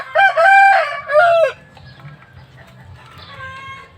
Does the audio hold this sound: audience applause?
no